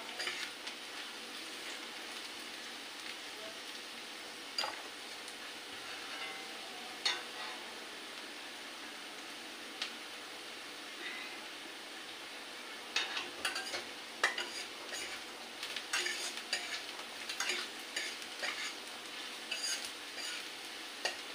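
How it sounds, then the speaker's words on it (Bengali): Peanuts fry in a pan while being stirred, giving a steady sizzle with scraping and clinking strokes that grow busier and louder toward the end; no one speaks. "আমি বাদামগুলো ভাজা করে নেব"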